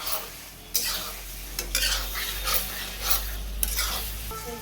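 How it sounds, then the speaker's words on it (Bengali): Meat being sautéed and stirred in a pan, bursts of sizzling and scraping spatula strokes over a low steady hum, a few distinct stirring passes in quick succession. "আমি কষবো, ভালো করে কষে নেব।"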